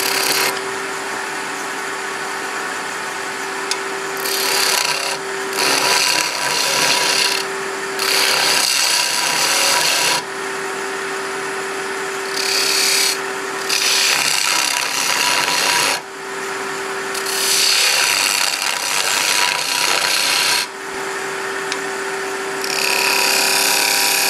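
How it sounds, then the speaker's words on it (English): A wood lathe whirs continuously while a half-inch spindle gouge hollows the wood in repeated bursts, rough scraping and hissing passes that start and stop, loud and close. "I'm just going to hollow it out with my half-inch spindle gouge."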